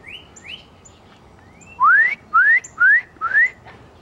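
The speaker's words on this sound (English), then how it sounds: "I hear the birds giving their mating call." A bird whistles a series of rising notes outdoors beside a driveway, a few faint calls followed by four loud, evenly spaced upward-sweeping whistles close by.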